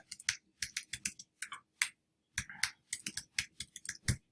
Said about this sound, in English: So for instance, if I type in here